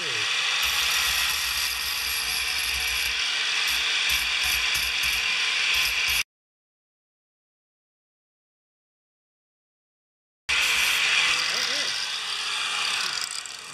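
An electric grinder with a flap disc runs loud and steady, cuts out for a few seconds of silence, then starts grinding again, with a constant high whine throughout.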